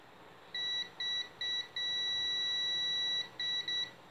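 A multimeter emits a series of steady, loud electronic beeps, short ones broken by a long continuous tone, while a diode in a lightning-damaged CRT television is tested for a short.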